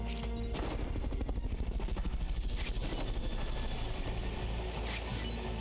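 Helicopter during a Fulton recovery in the video game Metal Gear Solid: Peace Walker, a steady, loud rotor chop with a fast rhythmic pulse throughout, alone without talk.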